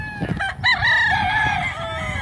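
A gamefowl rooster on a breeding farm lets out one loud, close crow, a rising then drawn-out call lasting about two seconds.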